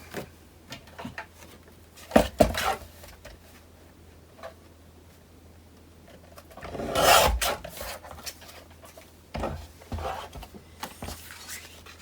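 Card for a handmade book folio is cut with scraping, rasping strokes and scattered ticks and taps, one longer louder scrape near the middle, close up with no speech.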